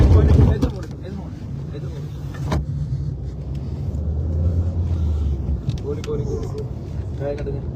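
Cars pull up on a road, a low engine rumble swelling and fading under wind buffeting the microphone, while people talk and shout nearby.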